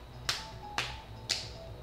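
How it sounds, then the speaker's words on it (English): Three sharp hand claps spaced about half a second apart, crisp and close over a low steady background. "Clap as hard as you can right now."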